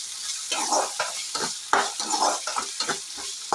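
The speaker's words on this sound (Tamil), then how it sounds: "கருவேப்பிலை எல்லாம் போட்டு வதக்கிக்கோங்க தக்காளி நல்லா மிக்ஸ் பண்ணி விட்டுருவாங்க" Tomatoes with curry leaves, mustard seeds, onion and garlic being stirred and sautéed in a pan: a sizzling bed broken by repeated scraping strokes of a spoon, close and rhythmic.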